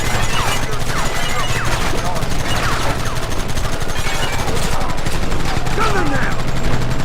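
Dense, continuous gunfire in Red Dead Redemption on PS5: overlapping rapid shots and crackling volleys of a sustained gunfight, with shouted voices mixed into the din.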